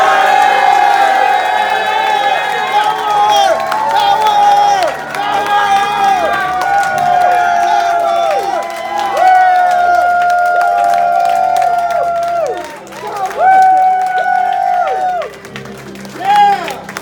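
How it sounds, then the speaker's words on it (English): An audience at a live hypnosis show cheers and applauds loudly, with whoops and shouted voices rising in repeated bursts over the sustained crowd noise. "all of this applause is for you"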